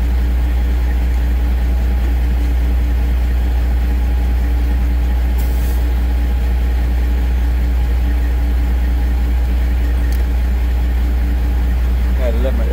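Semi truck engine idling steadily while building air pressure, a loud continuous low rumble that holds unchanged throughout with faint clanks near the end.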